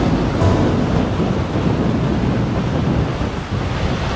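Strong wind buffets the microphone on a rocky shoreline during a fishing outing, a loud continuous roar with surf rumbling underneath and no voices.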